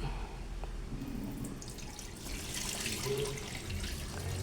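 Water splashes and trickles as rice is swished and rinsed in a pot, continuous and close.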